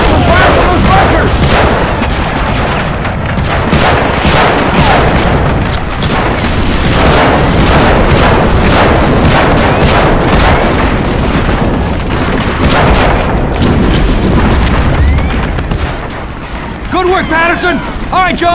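Gunfire from bunkers in the World War II shooter Medal of Honor: Frontline pounds continuously at high volume, with dense bursts of automatic fire and booming impacts under shouted voices.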